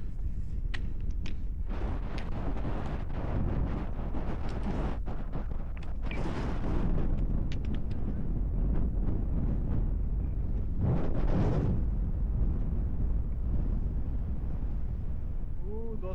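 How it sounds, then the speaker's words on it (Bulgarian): Strong, steady wind buffets the microphone near the summit of Moldoveanu Peak in Romania, a continuous loud roar with gusty surges and fog on the mountain. "Доста сериозно вятър."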